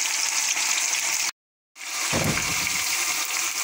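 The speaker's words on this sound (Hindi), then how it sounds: "तकरीबन 4 से 5 मिनट के लिए फ्राई अच्छी तरह कर लेना हमने।" Soaked chana dal dropped into hot oil in a kadhai, a loud steady frying hiss broken by a brief silent gap, then resuming with a low splashing burst as the lentils hit the oil.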